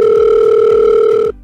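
A telephone gives off a steady, loud electronic ringing tone at close range with no talking, then cuts off abruptly.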